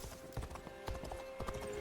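Horse hooves clip-clopping at a riding gait in the video game Dynasty Warriors Origins, a steady rhythm of soft, close thuds over a faint game backdrop.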